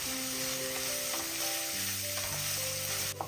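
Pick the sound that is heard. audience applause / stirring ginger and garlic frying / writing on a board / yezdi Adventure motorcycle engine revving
stirring ginger and garlic frying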